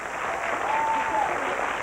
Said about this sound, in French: On vous applaudit.